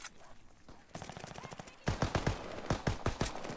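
Bursts of automatic gunfire from a weapon in a World of Warships–style naval video game featuring the Armaguerra 43 class, sharp rapid shots growing louder and denser in the second half.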